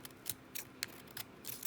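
Scissors snip out a craft shape for a Halloween pumpkin badge, a handful of quick, close, crisp cuts in an irregular rhythm with no talk.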